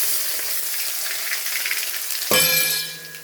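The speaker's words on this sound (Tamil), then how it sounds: "சாம்பாரை தாளிச்சிடலாம்." Loud sizzling and crackling of frying oil while tempering sambar with mustard seeds, cumin, shallots and curry leaves, with a sudden sharp burst as something hits the hot pan, then steady sizzle with faint clinks.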